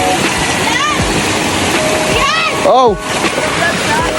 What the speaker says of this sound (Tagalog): Ayan po, tingnan nyo po ang falls. Ayan po, tingnan natin po ang falls.